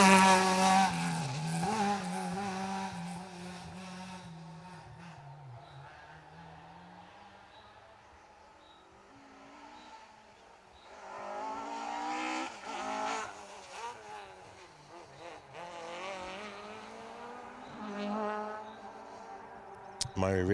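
Ford Escort rally car on an asphalt rally stage, engine revving loudly up and down through gears with tire squeal, fading mid-way then surging back close, with commentator speech over it.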